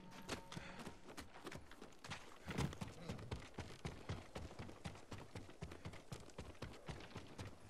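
Faint, rapid hoofbeats of samurai horses in the video game Ghost of Tsushima, a dense rhythmic clip-clop that keeps going throughout at low volume.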